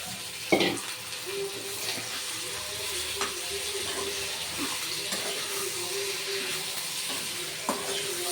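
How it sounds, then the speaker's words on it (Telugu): Chicken pieces sizzle and fry steadily with onions and masala in a pan, a constant close hiss with a few clicks and scrapes of stirring. "ఈ టైంలో మనం చికెన్ వేసుకుందామండి"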